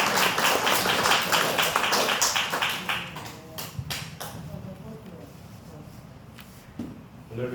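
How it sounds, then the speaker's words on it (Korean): Church congregation applauding as the pastor comes up to the pulpit, dense clapping at first that thins into scattered claps and shuffling, with a few faint voices beneath. "큰 박수로 환영해 주시면 감사하겠습니다"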